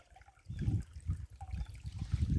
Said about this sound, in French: J'écoute le ruisseau et les centaines d'oiseaux qui sont un petit peu plus loin